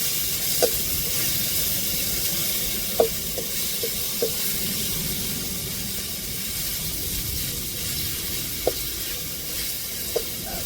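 Continuous sizzling from a pan of ginger, garlic, onion and tomato sautéing, with occasional sharp clinks of a spoon stirring against the metal.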